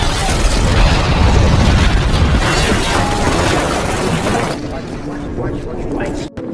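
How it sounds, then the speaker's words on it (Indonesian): A building blows up in an action film, a loud sustained blast and rumbling roar with crashing debris that fills the scene before easing off slightly toward the end. "Seketika gedung tersebut meledak dan meratakan sebagian ruangan bawah."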